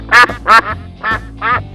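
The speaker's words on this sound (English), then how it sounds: "whoa, white duck, beautiful white duck" A white duck quacks four times in close, loud, harsh bursts: two quick strong calls, then two slightly softer ones after a short pause, with no voices.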